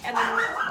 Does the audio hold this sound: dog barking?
yes